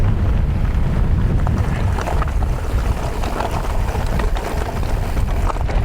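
Loud, steady wind roar buffets the microphone while riding a Specialized Levo Turbo Alloy e-bike into a strong headwind between Scarhouse and Carlton, a dense broadband rush with gusty low rumble throughout and no voices.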